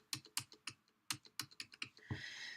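Computer keyboard keys clatter in a quick burst of about a dozen close, crisp clicks with uneven spacing, then a brief rustling scrape at the end.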